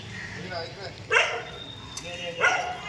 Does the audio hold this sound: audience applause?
no